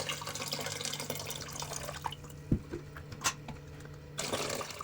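Water pours and splashes steadily as it is drained from jars, then thins to a few scattered drips and trickles before the flow picks up again near the end.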